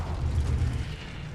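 A fire spell goes off in Hogwarts Legacy with a sustained, loud, low whooshing roar that holds steady, then eases slightly toward the end.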